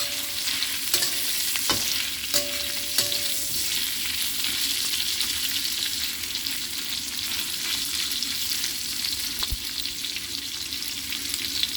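Roast pig (lechon) sizzles as it sautés with winter melon and dried mushrooms in a hot pan, a steady dense frying hiss broken by a few clinks and stirring scrapes, with no one speaking.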